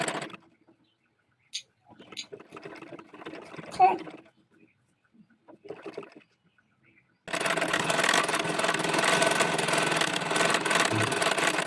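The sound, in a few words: sewing machine stitching a folded hem on a baby dress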